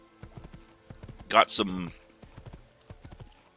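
Horse hooves clip-clop in a steady rhythm in the Assassin's Creed video game, close and moderately loud, with a brief louder burst midway, as someone talks over them.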